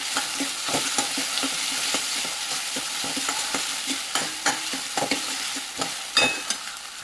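Ginger garlic paste stirred and frying in a pan, with a continuous sizzle and a steady run of scraping spoon strokes that grow sharper and more frequent toward the end, no voices.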